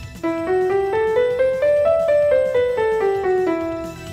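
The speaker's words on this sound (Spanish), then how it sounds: "un recorrido por la escala menor natural suena así" A melodic run of sustained synth notes on the natural minor scale, climbing step by step and then descending, played smoothly and clearly with no voices.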